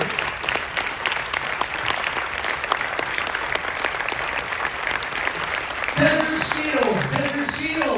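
A crowd applauds veterans at a military appreciation event on a Carnival cruise, steady loud clapping throughout, with a voice speaking over it near the end.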